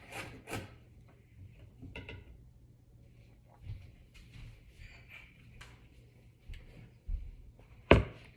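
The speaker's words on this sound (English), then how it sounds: "I'm just mincing up an onion here to combine with the ground beef to make the meatballs from hand" A knife mincing an onion on a cutting board, with irregular scrapes and light taps spread out over several seconds and a sharper chop near the end.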